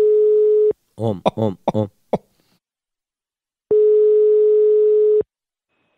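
A telephone call tone sounds as a loud, steady electronic beep, pausing while a voice briefly speaks, then beeping again.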